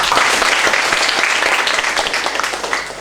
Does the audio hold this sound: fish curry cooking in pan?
no